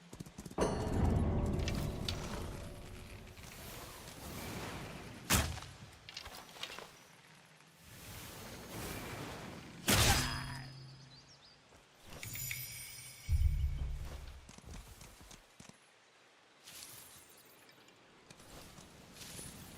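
Hollow, rhythmic horse hoofbeats in the video game Where Winds Meet clip-clop along at a steady walking pace, with a few louder thumps and bursts of game noise around them.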